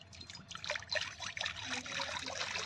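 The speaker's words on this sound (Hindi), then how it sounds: "इसमें डालेंगे पानी 1 गिलास।" A glass of water poured into a wok (kadhai) on a lit stove, a faint steady trickle and splash with no talk.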